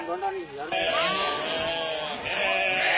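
Sheep bleat in wavering calls on a buffalo farm on Swarnadwip, where ducks are also kept, with a voice talking over and between the animal cries against steady outdoor background noise.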